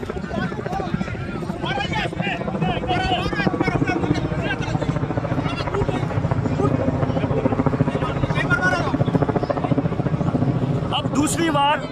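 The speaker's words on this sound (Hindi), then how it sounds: "अब दूसरी बार फिर से हेलीकॉप्टर उतारने की तैयारी में है जो दूल्हा और दुल्हन है" A helicopter carrying a bride and groom at a wedding in Barmer prepares to land, its rotor thudding steadily and loudly while a crowd chatters and voices talk over it throughout.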